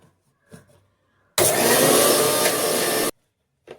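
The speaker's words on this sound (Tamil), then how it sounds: "அந்த மாதிரி ஆட் பண்ணல, அப்படியே போட்டு அரைச்சிப்போம்." Mixer grinder blending masala paste for Dindigul mutton biryani, a loud close whir that starts abruptly, runs for under two seconds and cuts off, with brief faint clatter before and after.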